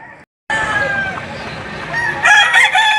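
Roosters crowing at the Padre Garcia, Batangas chicken market, a long loud crow followed by overlapping crows and clucks from several birds close by, after a brief silent gap.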